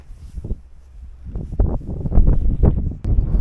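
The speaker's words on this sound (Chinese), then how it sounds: "我今天早上吹起风来了。" Morning wind gusting across a grassland campsite, buffeting the microphone in rough, uneven rumbling bursts that build and grow louder toward the end.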